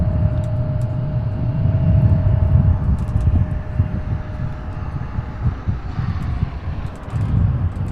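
A Southwest Airlines jet at Louisville's SDF airport makes a loud, low, rumbling engine roar that pulses slightly, with a faint steady whine above it and some wind buffeting.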